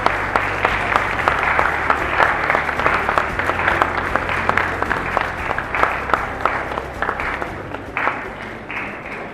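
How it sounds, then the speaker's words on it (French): An audience applauds at the Forum Brazza Cybersecurity conference in Kintélé, steady dense clapping that holds for several seconds and then thins slightly toward the end, with no talk. "Sous vos applaudissements, s'il vous plaît."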